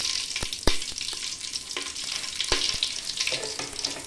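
Mustard seeds sizzle in hot oil while masala rice is being made, giving a continuous close crackle broken by several sharp, loud pops.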